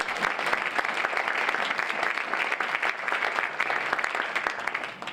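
An audience claps after a presentation at a Rotary club program, a sustained, even round of applause from a room full of people with no talk over it.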